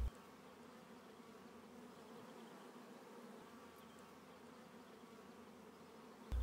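A steady, dense drone of many honey bees buzzing close by on a brood comb, continuous and even throughout with no voices.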